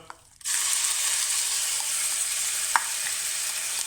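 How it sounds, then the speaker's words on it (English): Loud, steady sizzling and crackling of onions frying in hot oil, starting abruptly and continuing close by, with a brief clink partway through. "we're going to give that a really good sizzle in a relatively hot oil"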